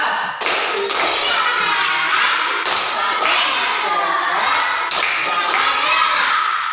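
A "tepuk COVID-19" clapping chant repeated in a classroom lesson, with sets of crisp rhythmic hand claps and thumps punctuating a sung, chanted voice, fairly close and loud.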